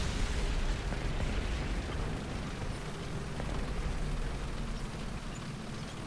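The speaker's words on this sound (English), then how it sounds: "Player IL-2 dive bombing somebody." A bomb from a diving IL-2 bursts in a ground battle, heard as a heavy, continuous rumbling roar that swells loud at first and then rolls on steadily, distant and dense.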